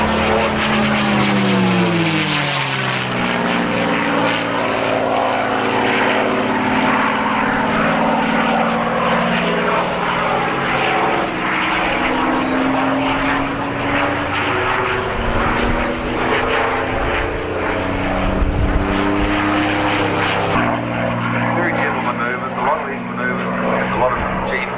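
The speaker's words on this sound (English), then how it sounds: "Big 4-bladed prop driven by that 40 to 50 horsepower Rolls-Royce engine." A propeller aircraft with a big four-bladed prop driven by a Rolls-Royce engine drones loudly and steadily at an air show at Matamata Airfield, its pitch sweeping as it passes, with a commentator talking over it.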